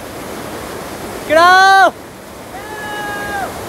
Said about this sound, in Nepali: झरना चाहिँ एकदम दामी पानी पनि एकदम क्लियर छ